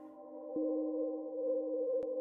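A steady electronic synth pad holds a sustained tonal chord, plain and dry without echo, with a couple of faint clicks.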